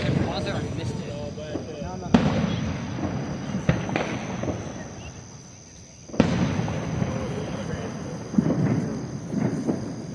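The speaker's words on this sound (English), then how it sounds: "And there's firework." Fireworks burst on a July 4 night amid a lightning storm, several sharp booms, each followed by a rolling rumble that fades before the next crack, with faint voices in between.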